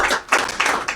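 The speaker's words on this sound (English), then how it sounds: "Nice round of applause for Bruce." Applause from a TV show studio audience welcoming a guest, a brief burst of dense clapping at steady loudness with no voices.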